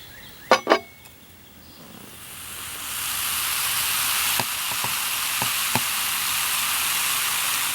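Raspberry porter beer fizzing in a glass, a steady close hiss of bubbles that builds after a couple of clinks and then holds, with a few faint ticks on top.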